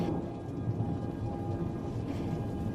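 Steady rain pours throughout a thunderstorm, with a low rumbling roll of thunder underneath, loud and continuous with no voices.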